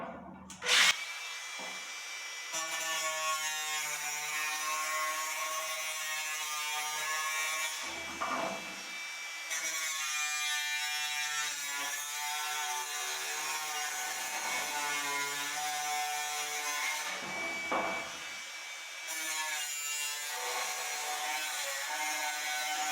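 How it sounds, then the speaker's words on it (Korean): Angle grinder cutting through metal, first in the normal spin direction and then reversed, giving a loud continuous whine with strong harmonic bands and two short breaks between cuts. "정상적으로 자르는 거하고 반대로 돌려서 자르는 거 한 번씩 자르고"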